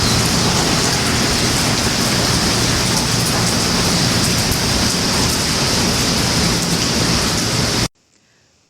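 Heavy rain pours down in a thunderstorm with lightning near a highway, a dense, steady roar of downpour lasting several seconds before cutting off abruptly into silence.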